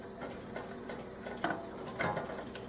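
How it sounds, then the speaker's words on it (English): Spices stirred into a Kenyan chicken curry pot with crushed tomato, producing soft scraping and light clinking of a spoon against the pot, close and quiet, with a couple of slightly louder knocks. "Stir each time you put something in."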